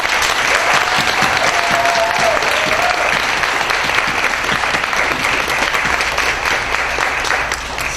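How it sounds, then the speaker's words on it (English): Audience at a 6th grade moving-up ceremony applauding the standing students, a steady, dense clapping from a full room that continues throughout. "I ask everyone to applaud this group one more time."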